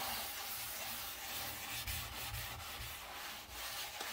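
A wet sponge scrubs a bathroom sanitary surface coated with cleaning product, making steady, close rubbing strokes in an uneven rhythm for a few seconds.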